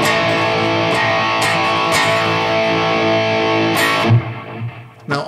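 Distorted electric guitar played through a Valeton GP-200LT multi-effects unit with its global EQ set flat, a dense, continuous wall of overdriven chords with a few sharp strums, loud and alone before the ringing thins out near the end.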